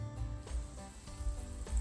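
Frog legs frying in hot oil, a quiet steady sizzle with soft low pops and crackles recurring every half second or so, heard close with no talk.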